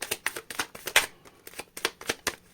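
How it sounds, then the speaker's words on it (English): Tarot cards are shuffled by hand in a quick series of crisp riffling bursts, close and fairly quiet, with no talking. "Last shuffle."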